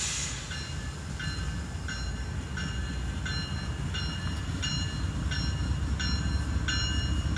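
A Norfolk Southern freight train rolls past at a distance with a steady rumble, its wheels clicking in a regular rhythm over the rail joints.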